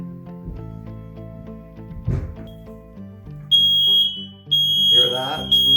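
A ceiling smoke detector being tested lets out a loud, piercing, steady electronic beep that starts partway through and keeps sounding. Low rumbles and a few brief indistinct noises come before it.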